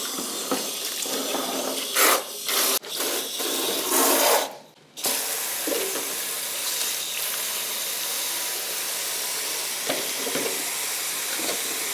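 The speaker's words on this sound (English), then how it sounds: "then I'll fill the rest with water" Tap water streams into a pot of onions in a home kitchen, a steady hissing pour for several seconds that then drops to a quieter background with faint clinks.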